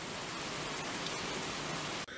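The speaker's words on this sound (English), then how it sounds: "Look at this rain. Unreal. Like, listen." Heavy rain pours steadily outdoors, with water running from a rain gutter, a dense even hiss throughout that cuts off abruptly near the end.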